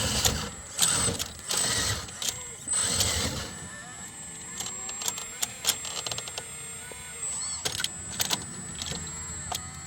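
Battery-powered all-metal model excavator running with a whirring electric-motor drone and clicking, rattling mechanical bursts, loud and close, with people talking over it.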